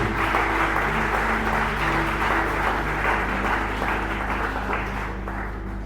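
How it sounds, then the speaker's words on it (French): Church congregation applauding and cheering in praise, a dense sustained wash of clapping and voices at steady loudness, with a held musical tone underneath and a slight fade near the end. "Est-ce qu'on peut célébrer l'Éternel par nos acclamations au nom de Jésus?"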